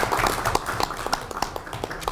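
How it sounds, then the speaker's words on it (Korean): Applause welcoming two new supreme council members at a Democratic Party of Korea meeting: a thin, fairly quiet patter of scattered claps from a small indoor group, with no talk over it. "박수로 환영해 주십시오"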